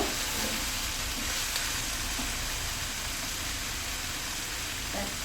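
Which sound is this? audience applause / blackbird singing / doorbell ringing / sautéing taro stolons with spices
sautéing taro stolons with spices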